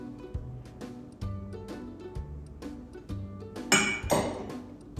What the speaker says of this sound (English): Go ahead and give that a good stir until everything's combined.